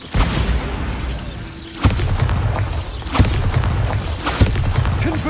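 Explosions from the Bombarda spell in Hogwarts Legacy: three loud, punchy booms spaced about a second apart, each standing out above a steady rumbling battle background.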